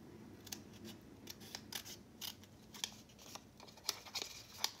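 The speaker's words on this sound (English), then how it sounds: "you could just take your scissors and cut this." Scissors snip through a small paper bag in a quiet crafting setting, with a series of short, crisp cuts in an irregular rhythm, close and faint.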